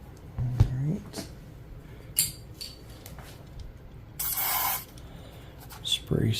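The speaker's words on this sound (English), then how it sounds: "Spray some DuPont silicone lubricant" A short hiss of DuPont silicone lubricant sprayed from an aerosol can into a shotgun magazine part, lasting about half a second, mixed with scattered metallic clicks and handling noises.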